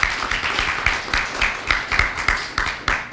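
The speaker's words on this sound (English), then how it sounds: "we can give him a round of applause" A crowd at a Maryland Mortgage Program launch applauds steadily, many hands clapping in a dense, sustained patter with a few louder bursts, no talking over it.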